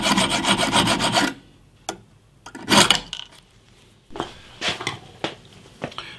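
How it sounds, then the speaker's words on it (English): A round file rasps across the slot of a screw head on a guitar built from fence wood: a long, steady run of close, gritty strokes, then short separate scrapes after a pause. "I've filed out that wide slot with this circular file"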